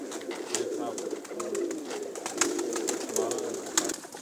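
Several Pakistani pigeons cooing nearby on a village rooftop loft in soft, throaty, overlapping bursts, with faint rustling and scattered clicks around them.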